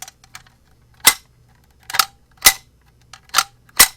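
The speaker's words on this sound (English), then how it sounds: "As you open the door, you're going to hear a clanking sound." Aluminum Hager automatic door bottom drop bar clanking as a door opens: five sharp metallic clanks, loud and close, spaced unevenly over a few seconds with faint ticks between.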